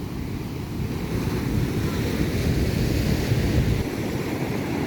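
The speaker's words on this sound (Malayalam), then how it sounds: "കടൽ തിരയടിച്ച് വരുന്നുണ്ട്." Sea waves roll in and wash onto a beach during the rainy season, a continuous broad roar mixed with wind noise on the microphone, with no voices.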